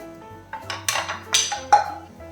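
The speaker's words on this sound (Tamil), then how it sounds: "ஓகே, இப்போ இதை நல்லா மிக்ஸ் பண்ணணும்." Chicken is mixed in a dish with a utensil, making a short run of clinks and scrapes against the vessel, close and fairly loud over a low background hum.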